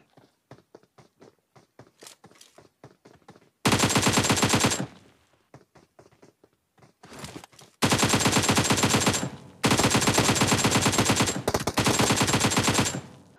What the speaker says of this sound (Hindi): और भाई साहब फिर UMP निकाल के मारता हूँ